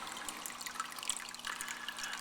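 Fluval C series aquarium filter recirculating water, a steady close trickle and splash that runs unbroken throughout with no voices.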